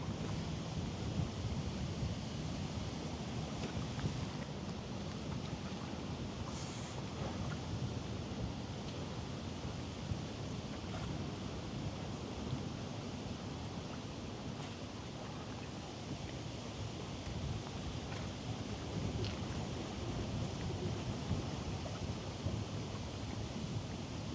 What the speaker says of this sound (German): wir haben ordentlich Wind. Ordentlich Wind heute.